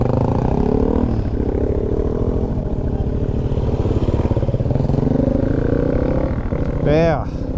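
Dual sport motorcycle engine droning steadily while riding a dusty trail, loud and close with a gear change near the end and someone talking over it.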